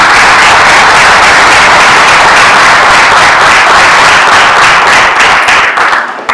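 A crowd at a taekwondo camp event in Ecuador applauds loudly and steadily, dense clapping filling the whole stretch before tapering off right at the end.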